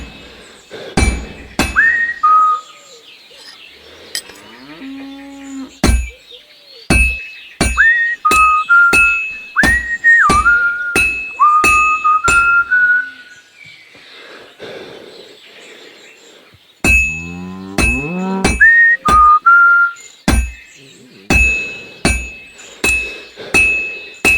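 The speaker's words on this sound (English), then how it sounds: "I have to hammer it more evenly." Hammer blows on hot metal at a smithing anvil in Kingdom Come Deliverance II, ringing sharp clinks struck in steady repeated bursts, each strike leaving a bright metallic tone, with short pauses between rounds.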